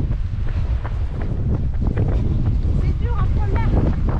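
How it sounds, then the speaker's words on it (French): Strong wind buffeting on a small coastal pontoon beside a beach, roaring steadily and close throughout, with people talking over it. "Je sais même pas si vous allez nous entendre, il y a tellement de vent."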